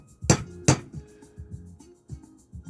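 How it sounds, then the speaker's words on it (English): A centre punch struck against a rivet on a Lambretta scooter stator: two sharp, bright metallic taps in quick succession, followed by a few softer, duller knocks, close and alone. "on the rivet you can just hit it with a centre punch"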